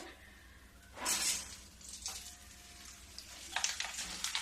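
Aloo bhujiya fries in hot oil with a soft, steady sizzle that bursts louder at moments as the strands hit the oil, faint and close with no voices.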